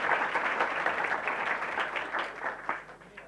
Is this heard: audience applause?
yes